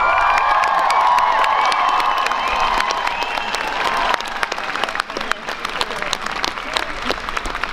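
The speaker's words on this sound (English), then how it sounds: "if you agree with me, then cheer loudly" A protest crowd at a demonstration in Sheffield against Trump's Muslim ban cheers loudly with applause, whoops and shouting, a dense close roar that thins into scattered clapping and calls.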